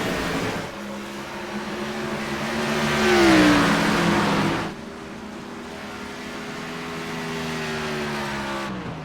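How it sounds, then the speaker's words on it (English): Race cars at a short-track restart roar and rev hard, engines climbing in pitch as tires spin, a loud swell peaking midway before the pack noise drops and settles into a steady drone. "Looks like Allers and Woodard both spun the tires on the restart."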